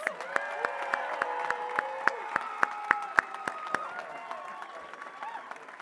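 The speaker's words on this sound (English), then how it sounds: "One more big round of applause for our graduates." An audience applauds the graduates at a high school graduation ceremony, with sparse, uneven claps ringing out in a large room along with some cheering and whoops.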